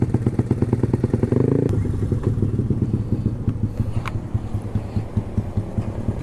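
A Honda Beat 115cc motorcycle with a racing exhaust idles and revs close by, giving a loud, throbbing, choppy exhaust beat that swells briefly before settling into a steady pulse.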